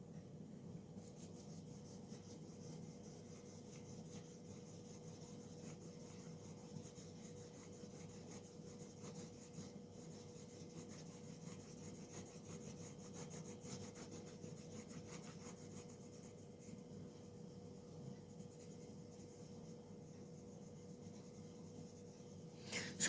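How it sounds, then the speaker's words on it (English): A soft 10B graphite pencil drawing a rectangle, producing a steady, faint scratchy rubbing that continues evenly for over twenty seconds with no talking, ending in a brief louder tap. "So first let's draw a rectangle out of it."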